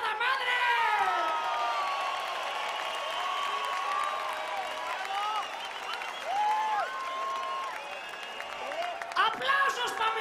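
Concert crowd applauding and cheering at a rock show, with loud whistles, whoops and shouts over sustained clapping, heard at a distance throughout.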